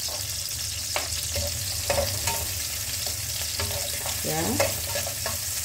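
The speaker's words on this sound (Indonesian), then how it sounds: "bawang merah sudah masuk, jadi ongseng" Shallots and garlic stir-frying in a pan, a steady close sizzle with scraping stirs and spatula knocks against the metal, a brief voice heard once.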